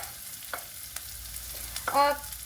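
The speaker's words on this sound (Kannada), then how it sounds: "ಕಟ್ ಮಾಡಿರೋ ಒಂದು ಈರುಳ್ಳಿ ಹಾಕೋತೀನಿ" Chopped onion dropped into a hot pan and stirred, giving a brief sizzle with a few scraping stirs, fairly faint and close, with no talking.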